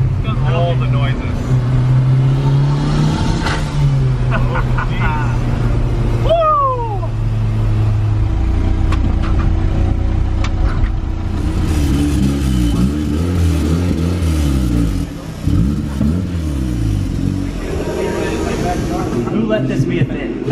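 Datsun 280Z with a Honda S2000 engine swap revs hard up close, climbing to a high-pitched wail. It then drops to a lumpy idle and sputters, with excited voices talking over the engine.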